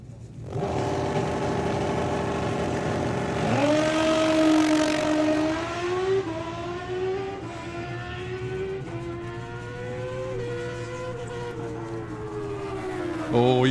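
A drag racing car engine revs at a strip event, the pitch rising and holding in a long sustained roar, then easing and swelling again as the throttle is feathered, loud and fairly near.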